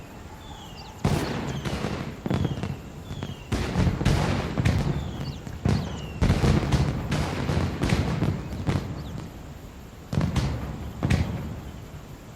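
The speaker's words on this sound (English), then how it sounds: "when you press the button you'll be treated to a lovely fireworks display" Fireworks display in the video game Ghost Recon Wildlands, a string of loud booming bursts and crackles coming in irregular clusters, close and dominant with no talk.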